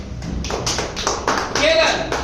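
Audience members at a business plan seminar give a loud round of clapping, a quick run of sharp claps in bursts mixed with a voice speaking over them.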